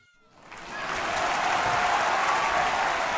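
A crowd bursting into applause, the clapping swelling quickly from silence into a dense, sustained roar of hands that holds steady to the end.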